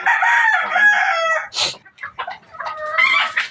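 A rooster crows loudly and close, then chickens squawk and cluck as they are caught and penned, ending with another strained crowing call.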